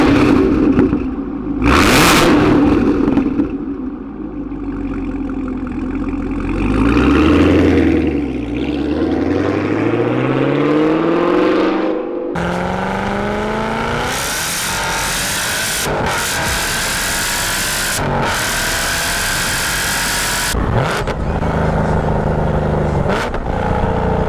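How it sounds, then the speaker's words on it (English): A Chevrolet Camaro ZL1 fitted with a Corsa axle-back exhaust and double X-pipe revs loudly, its engine note climbing and falling through several sharp blips before settling into a steady, rumbling idle close by. "So it's got nice exhaust on it,"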